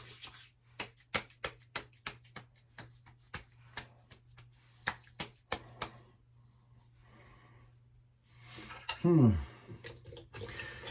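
A bottle of aftershave splash is shaken by hand, giving a steady series of sharp liquid sloshes and knocks that stop after about six seconds, followed by a brief breathy snort-like sound near the end.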